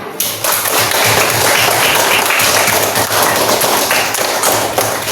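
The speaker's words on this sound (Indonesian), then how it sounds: "tepuk tangan dong buat semuanya" Classroom of students applauding together, a dense burst of clapping that starts abruptly and continues steadily for several seconds, loud and close with no talk over it.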